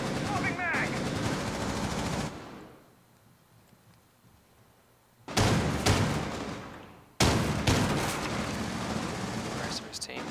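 Bursts of gunfire from a Rainbow Six Siege pro league match, a player shooting through from the connector near a wine cellar, loud dense volleys broken by a quieter pause, with a commentator talking over them.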